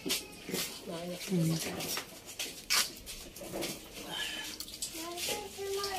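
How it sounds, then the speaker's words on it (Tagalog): Water splashing and draining from soaked pako fern greens at an outdoor riverside cooking spot, heard under a voice and adult chatter. "So yan po at dinidrain po ni ate yung pako."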